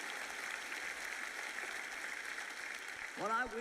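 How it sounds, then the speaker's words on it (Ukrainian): Audience applause filling a large hall at a sermon event, a steady dense wash of clapping at moderate level, with a voice rising over it near the end. "Я не спинюся, допоки ви не почнете аплодувати"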